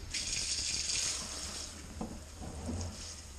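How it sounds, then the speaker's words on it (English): A kitchen sink sprayer rinses out a TRD air filter, a steady hiss of running water close by, tapering slightly with faint rattles, no speech. "we'll go ahead and use the kitchen sprayer to rinse the rest of this out"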